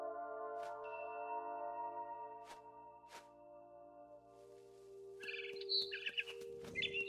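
A mother bird calls in the video game What Remains of Edith Finch, with sharp chirps and tweets rising over a sustained ambient musical drone, faint and without talk.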